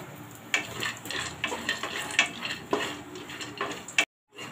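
Almonds and cashews frying together in a pan, with a soft sizzle broken by repeated scraping stirs about every half second, close and clear, before it cuts off abruptly.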